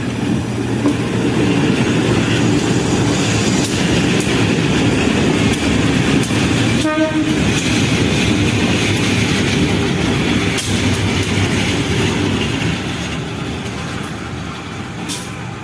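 Locomotives 8311 and 0405 shunting at Lempuyangan railway station, a loud, steady diesel engine rumble and rail noise that runs continuously, with a brief tonal squeal midway and a slight fade toward the end.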